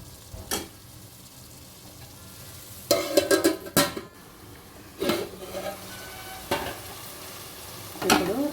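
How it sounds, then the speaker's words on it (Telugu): A spoon stirs tomatoes into simmering Telangana-style bottle gourd dal, with several clattering bursts of utensil against pot over a soft, constant sizzle, close by. "టమాటా వేసి కలుపుకోవాలి."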